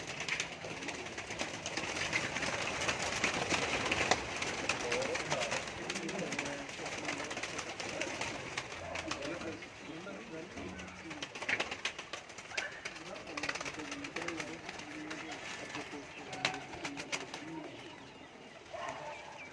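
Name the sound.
Lakha pigeons flying and cooing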